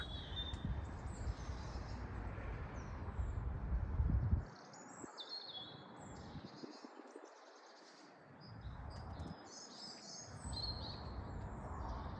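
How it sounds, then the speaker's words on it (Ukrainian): Small birds chirp and sing through a winter day in a UK village, Darfield, with faint high calls scattered over a steady outdoor rumble of wind and distant traffic. "мені завжди подобається, що в Великобританії птахи співають і взимку, і круглий рік"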